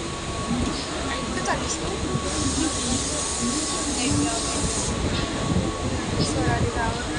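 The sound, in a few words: riding a train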